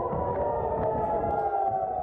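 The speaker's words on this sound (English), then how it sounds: "The sound of warning sirens can be heard there and in the holy city of Jerusalem" A steady air raid warning siren in Israel during missile attacks holds a sustained wailing tone throughout, loud and continuous, with no voices.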